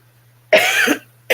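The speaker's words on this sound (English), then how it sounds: "I'm coughing a little bit" One sharp, throaty cough up close, followed by a short pause and the start of a second cough.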